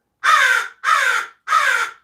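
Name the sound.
pet birds calling in a room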